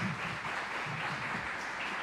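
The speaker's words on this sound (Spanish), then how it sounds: "Denme un aplauso al Señor por la vida de ellos." A church congregation at a Christmas service breaks into applause, a brief, fairly quiet wash of many hands clapping together in a room.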